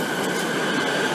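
A Siemens suburban electric train departs Bentleigh station in Melbourne on a Frankston line service, a loud, continuous close-up roar of wheels and traction motors with a steady high whine and no voices.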